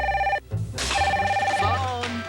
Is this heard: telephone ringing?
yes